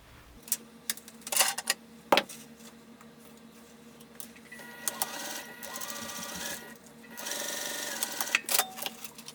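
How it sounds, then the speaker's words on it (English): A sewing machine stitches a seam on a zippered coin pouch, first in short stop-start bursts, then in a steady close whirring run, pausing and starting again for the back stitch. "I am going to sew directly on this line that I drew."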